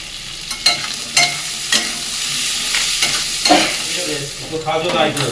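Ginger-garlic paste, onion and capsicum fry in hot oil, a steady close sizzle broken by several sharp scraping stirs of a spoon against the pan, with no talking.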